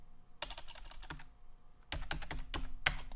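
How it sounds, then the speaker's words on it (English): Quiet, close tapping on a computer keyboard comes in two rapid bursts of clicky keystrokes with a short pause between, and no voices. "I'm going to type this up right now"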